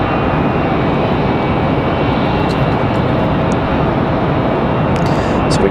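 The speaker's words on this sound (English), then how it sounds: "Looks like we got a United Express CRJ pushing back" A United Express CRJ regional jet pushes back at Raleigh Durham airport, giving off a loud, steady broadband engine roar with a faint high whine that holds evenly throughout.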